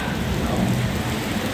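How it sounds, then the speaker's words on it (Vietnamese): Heavy rain pours down in a steady, loud, unbroken roar, a dense hiss with no talking over it. "Mưa quá, mưa quá."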